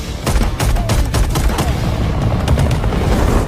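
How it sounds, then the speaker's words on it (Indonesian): Dense, rapid gunfire from a helicopter rattles continuously with heavy booming impacts, loud and chaotic, with no voices over it. "sebuah helikopter muncul dan langsung melepaskan tembakan ke arah mereka"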